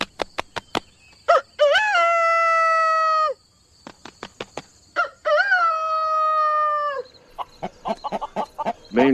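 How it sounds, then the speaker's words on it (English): A rooster crows several times in a farmyard, each long harmonic call preceded by sharp flapping bursts and followed by scattered clucks, close and loud with no talking. "The rooster's main call is he makes a crow sound"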